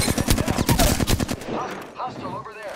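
Rapid automatic gunfire in Apex Legends, a dense burst of loud repeated shots for over a second, then a quieter stretch of scattered game sounds with faint voice-like tones.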